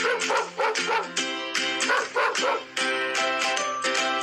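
A kids' dog running game has a small dog giving a quick run of close, bright, yappy barks and yips in an uneven rhythm for the whole clip.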